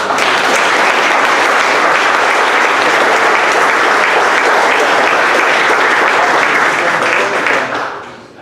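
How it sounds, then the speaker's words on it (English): Large audience at a jurisdiction convention giving a sustained round of applause, thick continuous clapping that holds loud for several seconds before tapering off at the end. "Give yourselves all a round of applause."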